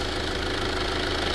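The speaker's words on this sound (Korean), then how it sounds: "엔진만 돌아가고 있죠" A car engine idles steadily with a dense mechanical rattle from its many rotating parts, a continuous close churning hum with no pauses.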